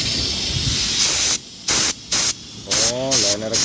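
Compressed air hisses out of a hose in several sharp bursts separated by short pauses, loud and close, while someone talks over the last part.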